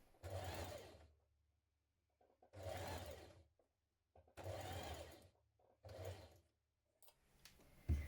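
A sewing machine stitches a shirt collar in place in four distinct bursts of about a second each, separated by short pauses, running steadily and close with no talk over it.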